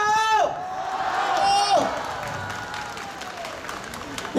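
Crowd applause at an outdoor flag-raising gathering in a sports park, a broad wash of clapping and cheering from a large group, with a voice and whistle-like tones over it.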